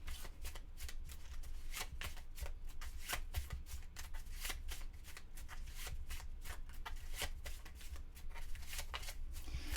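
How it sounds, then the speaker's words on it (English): Cards for the board game Forbidden Desert are shuffled by hand in a steady run of quick, dense riffling snaps, close and quiet, lasting about ten seconds with no talk. "And then we shuffle."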